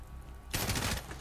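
A sudden burst of gunfire from the Call of Duty Modern Warfare campaign cuts in after a half-second of quiet and rattles on loud and close to the end.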